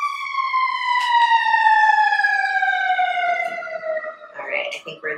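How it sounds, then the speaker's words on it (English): An emergency siren passes by, its loud wailing tone sliding steadily downward in pitch as it goes, then giving way to brief mixed noise at the end. "I'm just gonna wait for that siren to go by."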